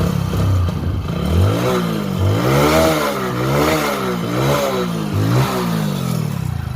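A Hero Passion Pro motorcycle engine revs repeatedly, close and loud, with a rising and falling pitch through several throttle blips over a steady mechanical clatter, and no voices.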